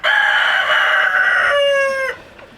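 A rooster crows loudly and close among a free-range flock of around 150 to 200 chickens, one long strained call lasting about two seconds and then cutting off, with faint clucking in the background and no talking.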